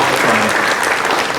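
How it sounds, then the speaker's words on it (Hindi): Dense, loud applause from a crowd at a bank office's Independence Day celebration in India, steady clapping throughout the short moment. "उनके लिए भी जोरदार तालियों का"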